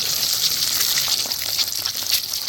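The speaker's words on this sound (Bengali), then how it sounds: "দেওয়ার সঙ্গে সঙ্গে নাড়া দেবে এক থেকে দু মিনিট ভেজেই আমি ডিমটাকে তুলে নেব" An egg coated in salt sizzles and fries in a pan for a minute or two, giving a dense, steady crackle close by with no talking.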